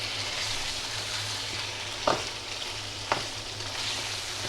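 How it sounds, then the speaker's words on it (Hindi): Chicken frying on high heat for a curry, a constant dense sizzle with two brief clinks of a spoon or pan partway through, no voices. "बस ज़रा तेज़ी आप इसे फ्राई करें।"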